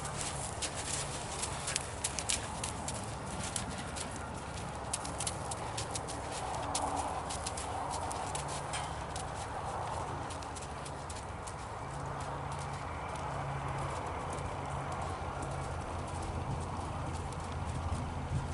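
A horse walks under a rider during a riding lesson, its hooves clip-clopping in a steady rhythm against continuous outdoor background noise, with faint bird sounds.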